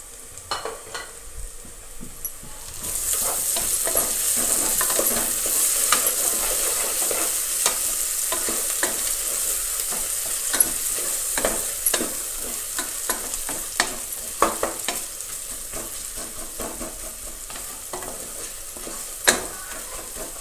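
Ginger garlic paste and green chillies frying in a pot for chicken biryani, a loud sustained sizzle that bursts in once the paste hits the oil, with repeated close stirring scrapes throughout, no voices.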